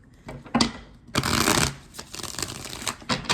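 Tarot cards being shuffled: a short riffle, a pause, then a longer run of crisp papery flutters and snaps, close and fairly loud, with no voices.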